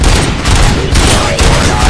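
Dense, continuous gunfire from a robotic law-enforcement character's weapon in the video game RoboCop: Rogue City, a loud sustained burst of rapid shots with booming low end and no pauses.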